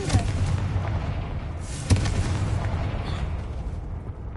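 The Confringo fire spell in Hogwarts Legacy goes off as a sharp, booming blast, with a single strong burst near the middle over a rumbling, explosive wash.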